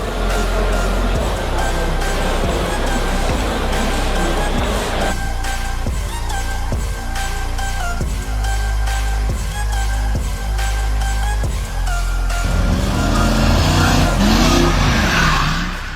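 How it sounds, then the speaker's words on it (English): A Porsche accelerates hard with a loud, close engine roar and revving, joined by tire squeal and skidding, and it surges louder near the end. "Why do people with Porsches feel the need to pull these maneuvers and hard accelerations?"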